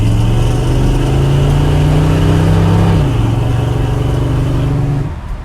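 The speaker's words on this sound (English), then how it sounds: "I'll give it a little bit of gas so you can see that it shifts properly" A 1963 Chevrolet Bel Air engine pulls loud and close under a little gas while driving, rising steadily until it shifts around three seconds, then holds a lower steady drone that fades near the end.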